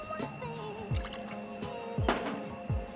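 Fresh lemon juice poured into a measure for a gin bramble cocktail, a few soft drips and splashes in quick succession, quiet and close.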